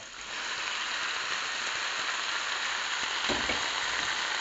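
Onion, garlic and sliced sponge gourd (patola) saute in a hot oiled pan, giving a steady, close, even sizzle throughout with a brief stir-like rustle near the end.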